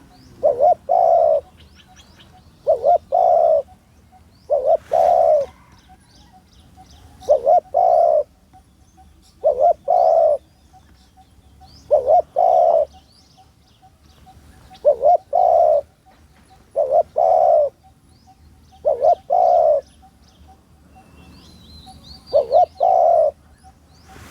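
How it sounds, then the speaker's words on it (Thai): A spotted dove coos in rhythmic, evenly spaced phrases, about a dozen clear bursts repeating every couple of seconds during a dove-calling competition, with faint chirps from other birds in the background. "มีเสียงนกไปครับผม"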